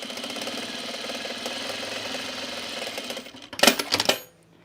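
A sewing machine stitches a test seam on fabric for a men's utility jacket, giving a steady, even whir for about three seconds before a short clattering burst as it stops.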